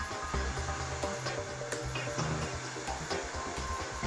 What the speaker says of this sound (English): Then move the machine to the left out of the cutting area up to the end stop.